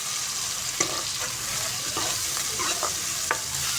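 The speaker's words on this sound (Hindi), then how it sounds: "तो बस इसको भी फ्राई करेंगे 1 मिनट के लिए।" Mixed vegetables fry in a pan with freshly added tomatoes and finely chopped green chillies, a steady crackling sizzle punctuated by several sharp stirring scrapes and clinks, close and with no voices.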